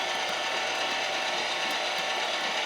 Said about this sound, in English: Meat is cold, grinder's cold, and the foot pedal's attached. Let's grind it up.